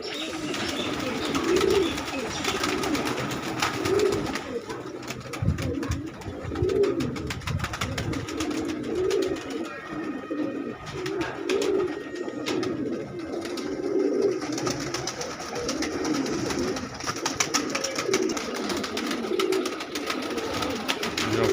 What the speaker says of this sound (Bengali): প্রচুর পায়রা আছে, যদিও কমিয়ে দেবে অনেক পায়রা, কারণ বেশি লফটে বেশি হয়ে গেছে